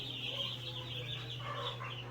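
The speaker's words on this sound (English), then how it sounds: "turkey and these are the broilers. You should be able to distinguish between the two." Broiler chickens and hybrid turkeys on a poultry farm give a faint chorus of soft clucks and calls over a steady low hum, with no talk.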